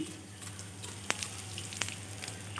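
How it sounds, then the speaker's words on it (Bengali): Cumin seeds and a pinch of asafoetida sizzle in hot oil in a kadai, a steady soft frying hiss with a couple of sharp crackles and pops, no talking. "কড়াইয়ে আবার দিয়ে দিচ্ছি কিছুটা পরিমাণ তেল, দিয়ে দিচ্ছি ফোড়নের জন্য জিরা আর অল্প পরিমাণ হিং"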